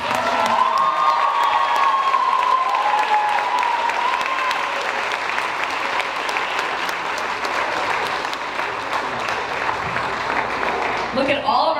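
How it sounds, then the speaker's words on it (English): Audience at a high school theatre troupe induction ceremony applauds and cheers for alumni, sustained dense clapping with whoops and a tonal voice or whistle drifting above, continuing steadily before tailing off at the end. "Audience, please give our alumni applause for the past."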